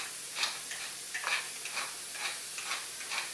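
Fresh black pepper ground by hand into a cooking pot for white clam sauce, a series of soft, close gritty crunching bursts repeating in a steady rhythm, fairly quiet with no talking.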